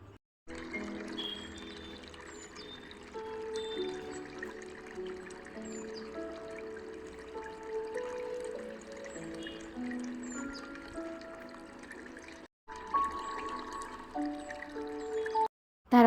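Ghee is poured over freshly cooked bhagara rice, making a soft, close trickling and dripping sound with faint kitchen clinks, steady and quiet through most of the stretch.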